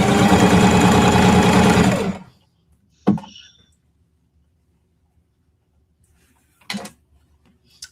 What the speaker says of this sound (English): if you know how to just sew off of the machine